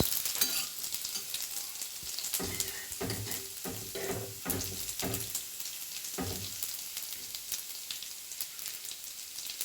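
Pancake batter fries in oil in a pan on a stove, a steady close crackling sizzle with bursts of bubbling pops as more oil is added over the top.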